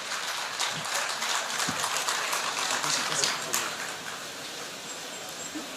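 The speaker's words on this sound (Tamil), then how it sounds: "ஒரு பெரிய கைத்தட்டல் கொடுக்கிறோம் ஐயா" An audience applauds the orator Suki Sivam at a district administration event in Madurai, a soft, continuous wash of many hands heard from a distance that thins slightly toward the end, with faint voices beneath.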